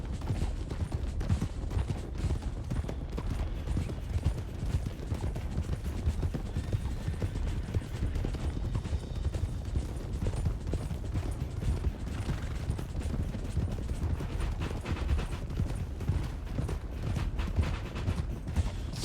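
Horse hooves clatter in a video game, with a continuous dense galloping clip-clop close by and faint creaks mixed in throughout.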